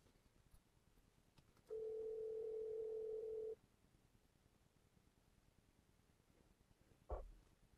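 A single steady electronic phone ringing tone plays over a BMW 5 Series E60 car loudspeaker through a Dension Gateway 500s Bluetooth unit for about two seconds over quiet background hiss, followed later by a short click.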